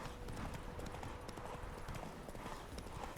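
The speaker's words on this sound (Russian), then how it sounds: "поскакать на лошади" A horse gallops in The Witcher 3, a steady, rapid clip-clop of hooves heard faintly but continuously under a dense wash of game ambience and wind, with no talk.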